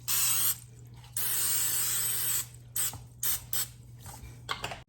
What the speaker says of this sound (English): Gonna spray the pans.